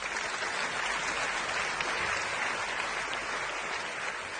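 Dense, sustained applause from an audience at the launch event for an Indian 3D feature film, a steady wash of clapping filling the room with no speech over it.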